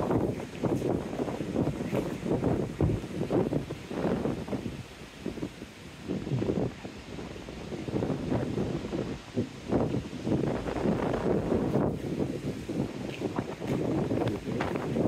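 Wind buffets a covered microphone on a seafront by a curved seawall at Teignmouth, a steady, loud rushing roar with gusty surges throughout.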